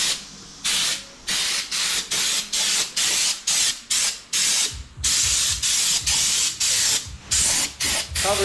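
Repeated short bursts of a hissing spray gun applying oil undercoating to a vehicle's underside, about a dozen in quick succession with brief gaps, close and fairly loud.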